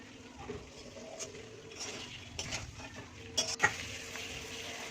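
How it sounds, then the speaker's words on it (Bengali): Potatoes stir-fried in oil and spice paste in a pan, with faint scraping and stirring, soft utensil clatters against the pan and a low sizzle throughout. Nobody speaks. "তারপরে আমি আলুগুলো এবার দিয়ে দেবো। দিয়ে বেশ খানিকক্ষণ আমি কষাতে থাকবো।"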